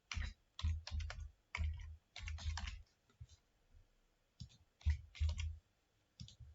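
Code is typed on a computer keyboard in quick bursts of close clicking keystrokes, separated by short pauses, fairly quiet with no talking.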